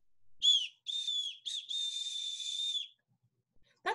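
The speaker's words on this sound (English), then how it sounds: "So it's a slide whistle." Slide whistle played in a few bursts: a short high toot, a longer wavering note, a quick blip, then a long sustained tone, clear and close against silence.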